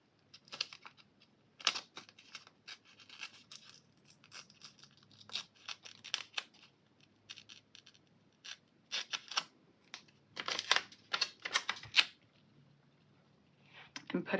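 A Happy Planner daily sheet is torn out in a run of crackly rips and paper rustles, irregular and close, in short bursts spread across the stretch.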